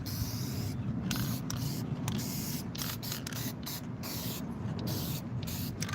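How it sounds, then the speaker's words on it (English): Spray can bursts coating a masking-tape model of a Xenomorph Alien Queen, a steady close hiss broken by short pauses between repeated sprays, with no talking. "Let me just spray it really back right quick."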